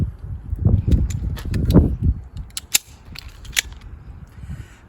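A Smith & Wesson 380 EZ polymer handgun being cleared, giving a run of sharp metallic clicks and clacks from the slide and mechanism, close and fairly loud, with a crisp snap near the middle.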